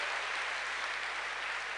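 Hands clapping throughout a church congregation during a worship service form a dense, even roar of applause that holds steady, close and fairly loud, for the whole short stretch without any voices.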